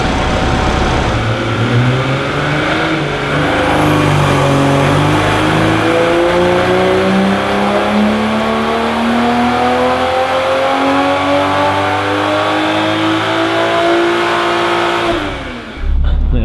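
A 2020 Toyota Supra with a catless downpipe and stage 2 tune roars through a full dyno pull with the hood open, its engine note climbing steadily in pitch for about fifteen seconds, loud and continuous before cutting off at the end.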